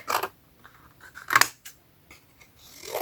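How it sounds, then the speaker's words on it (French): Scissors cut through paper for a watercolour sketch: a few crisp, close snips and rustling cuts spaced over a few seconds, with quieter handling sounds in between. "alors on va les découper"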